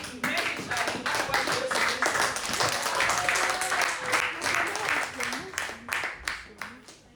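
A church congregation claps and applauds loudly in a dense, continuous burst, tapering into scattered claps at the end, with a preacher's voice speaking over it.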